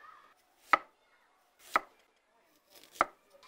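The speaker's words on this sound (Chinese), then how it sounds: "老姜炖鸡汤，鸡肉斩块" A home cook chops an old hen into pieces with a blade for ginger chicken soup, giving three sharp, isolated thwacks spaced about a second apart, with quiet gaps between.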